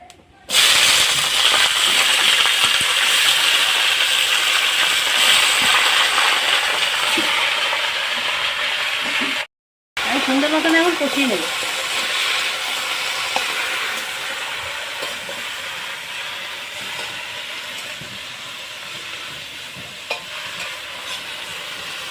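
Panch phoron and chopped vegetables fry in hot oil for a spinach-based vegetarian dish, a loud continuous close-up sizzle with stirring scrapes, briefly cut off midway before the hiss resumes and slowly settles.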